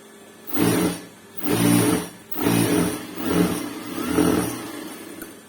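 A sewing machine stitches a blouse in five short, close whirring bursts separated by brief pauses, each run rising and settling evenly, with no talk.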